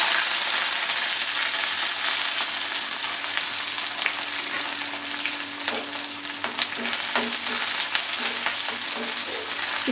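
Onion, garlic, curry leaves and fenugreek seeds fry in hot oil, an even, close sizzle with scattered crackles and a few light stirring knocks in the second half, no voices.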